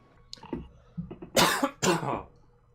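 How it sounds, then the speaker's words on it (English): A few harsh coughs and throat clearing from a gamer, close and fairly soft, coming after some quieter throat noises, with no talking. "Coughing."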